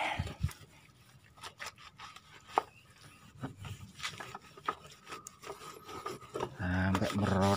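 Scrubbing on a Yamaha SS 110 motorcycle during a wash, with soft irregular rubbing and scraping strokes at close range and a louder stretch of rubbing near the end.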